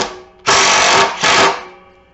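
Ridgid impact driver sinking 3-inch deck screws into wood: two loud, sustained buzzing bursts, the first about half a second long and the second shorter, each fading off at the end.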